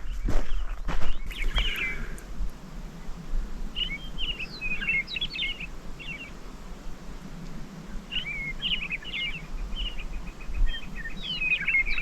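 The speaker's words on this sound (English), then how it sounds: "I hope you're picking up all the bird song on this because it's really loud and cool." Birds, including juncos, chirp and trill in short bursts over a soft outdoor background in Central Oregon's backcountry near a reservoir, with faint rustling footsteps near the start.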